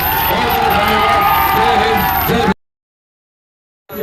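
Loud, dense crowd at a political rally in Bhojpur, clapping and cheering together for about two and a half seconds before cutting to silence, then a brief return of noise at the end.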